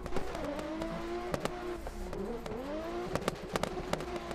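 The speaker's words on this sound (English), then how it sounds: "I hear another car, I think, popping behind me" A video game race car engine in Assetto Corsa drones and sweeps in pitch on a drift track, broken by several sharp exhaust pops and cracks scattered through, fairly close.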